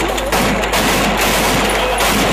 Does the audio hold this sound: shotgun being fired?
yes